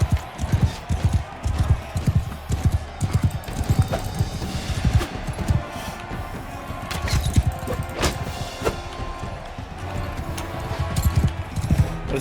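Rhythmic hoofbeats of a galloping horse in the video game Mount & Blade 2 Bannerlord thud steadily throughout, mixed with occasional sharp impacts and clashes.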